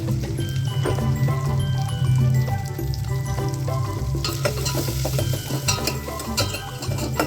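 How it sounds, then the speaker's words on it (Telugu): Onion and green chillies sizzle and fry in a hot pan with salt and turmeric while being stirred, a loud crackling hiss with occasional scraping and clinks of the spoon against the metal. "మనం కట్ చేసి పెట్టుకున్న ఆనియన్, పచ్చిమిర్చి వేసేసి మిక్స్ చేసేసేయండి."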